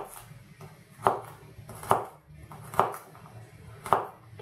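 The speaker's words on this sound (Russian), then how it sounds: "Мелко нарезаем кинзу и чесночок." A knife chops cilantro and garlic on a cutting board for a Georgian chicken sauce, four crisp evenly spaced strikes over a soft background.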